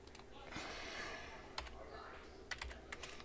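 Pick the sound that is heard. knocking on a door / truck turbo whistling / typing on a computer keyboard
typing on a computer keyboard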